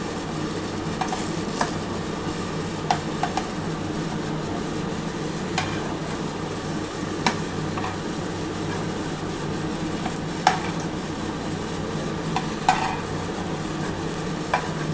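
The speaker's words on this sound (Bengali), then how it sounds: "এই যে এগুলো সব তোলার পর যে তেলটা পড়ে থাকবে সেই তেলের মধ্যে আমি কালো জিরে আর কাঁচা লঙ্কা দিয়ে দেবো।" Nigella seeds and green chilies frying in leftover oil from fried eggplant: a steady crackling sizzle runs throughout, punctuated by occasional sharp ticks and spatula taps, close and moderately loud, with no talking.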